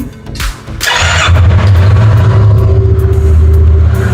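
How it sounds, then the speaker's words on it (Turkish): A Yamaha R25 motorcycle engine cranks briefly with the starter, then catches and settles into a steady, loud idle close by, with no talk over it. "Motoru bir saniye çalıştıralım."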